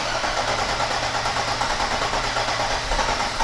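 An old Mercedes engine runs with its airflow plate pushed down, giving a steady, even mechanical drone with a low pulsing hum and no breaks, close and moderately loud.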